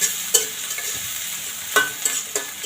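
Ingredients are stirred and fried in a pan for a home-style pasta dish. Crisp spatula scrapes and clacks land at irregular intervals over a soft, steady sizzle.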